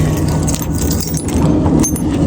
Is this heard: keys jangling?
yes